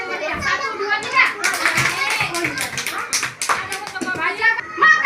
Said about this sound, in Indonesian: Coba tepuk tangan yang paling meriah.